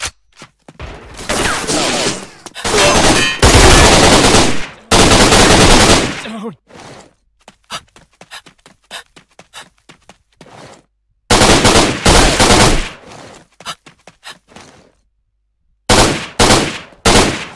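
Loud automatic gunfire in the online shooter game Line of Sight comes in several long, sustained bursts broken by short gaps and a few single shots, all close and dominant.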